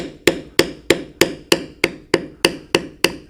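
A mallet strikes a steel beveling stamp on leather while carving a standing buffalo design: about ten sharp, evenly spaced thwacks, loud and close, each with a quick woody decay and no voices.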